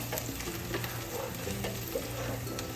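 Onions softening toward light brown in a pot for peri peri chicken rice, giving a steady close sizzle with occasional stirring scrapes and no voices.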